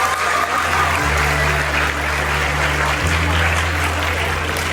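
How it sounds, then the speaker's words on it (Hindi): Applause from an audience in a university auditorium at a student theater event, a continuous wash of clapping with some voices and a low hum underneath. "भरपूर तालियां बजाएं।"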